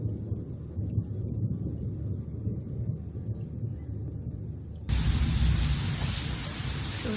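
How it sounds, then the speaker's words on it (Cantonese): Early-morning thunderstorm with rain over Ha Long Bay, a dense low rumbling wash of rain noise that jumps abruptly louder and brighter partway through as the downpour intensifies, steady and enveloping, with no voices. "出邊行緊雷閃電"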